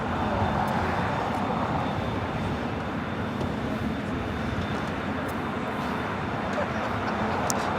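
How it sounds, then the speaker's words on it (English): A Korean Air airliner crosses the field at LAX. Its jet rumble is steady and moderately loud throughout, with faint voice-like sounds in the background. "Should be seeing Korean Air cross over here shortly."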